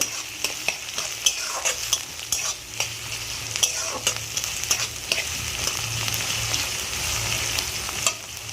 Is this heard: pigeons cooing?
no